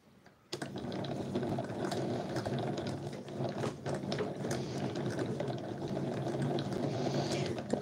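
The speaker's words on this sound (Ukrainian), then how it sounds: "Завдяки двом моталкам реально перемотати, але не так швидко, як хочеться." Hand-cranked yarn winder rewinding bright-coloured thread, giving a continuous close whirring, clicking gear-and-ratchet rattle with scattered sharper ticks. It runs steadily after a quiet start, with no talking.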